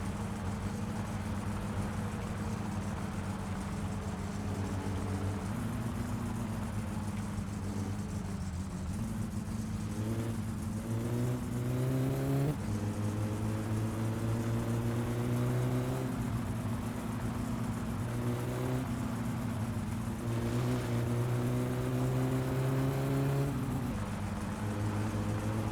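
A car engine in My Summer Car drones steadily on a road drive, moderately loud, its pitch climbing and falling through several gear changes and accelerations.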